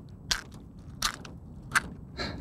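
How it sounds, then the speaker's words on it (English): A sturgeon feeding underwater in about 60 feet of water, crunching shrimp: four sharp crackling bursts spaced roughly evenly apart, loud against a low murky underwater rumble. "Can you hear him crunching the shrimp up?"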